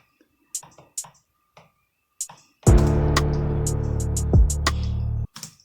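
A dancehall drum pattern of crisp, sparse hi-hat ticks followed by a sustained low, booming kick-bass hit with further ticks over it, played alone and close.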